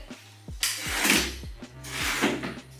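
Drawers in a studio apartment slide open and shut, with two drawn-out rumbling glides marked by small clicks and knocks, heard close and alone.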